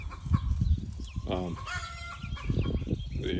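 Backyard chickens, including an Australorp, clucking and squawking close by in a busy, irregular chorus with a brief rising call partway through.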